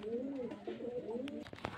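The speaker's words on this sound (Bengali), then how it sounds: "সব মুর্শিদাবাদের পিওর দেশি পায়রা" Murshidabad desi pigeons cooing close by, a soft run of throaty rolling coos over about two seconds in a quiet setting.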